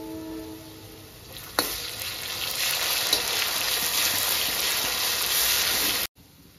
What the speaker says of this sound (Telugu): చూడండి అల్లం వెల్లుల్లి పేస్ట్ కూడా బాగా ఫ్రై అయింది